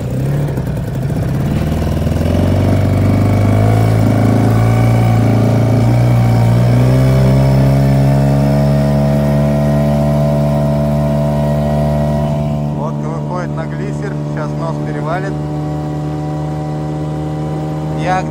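Small boat pushed upstream in winter by a 5 hp outboard motor, a steady loud engine drone whose pitch climbs gradually as it speeds up, then settles into a sustained higher whine with wind or water noise and brief voice sounds late.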